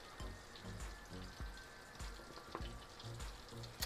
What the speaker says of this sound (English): I'm gonna add in my onions. I'm gonna fry that, cook it a little bit